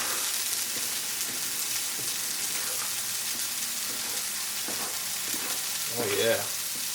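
Nopales char and sizzle in a hot pan for a vegan sofrito burrito, a loud, steady frying hiss with occasional stirring scrapes and a brief bubbling burst near the end.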